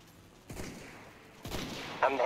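Gunfire in the Roblox game Zulu Wars: two sharp shots about a second apart, each with a short ringing tail, moderately loud over faint background noise, with a brief higher chirp at the end.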